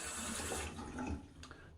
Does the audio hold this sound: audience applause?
no